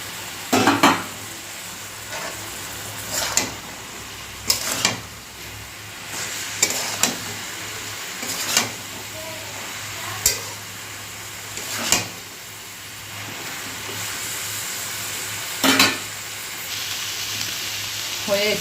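Fried potatoes stirred into a banana flower curry in a kadai, with sharp, irregular metal spoon scrapes and clanks against the pan over a soft, steady sizzle.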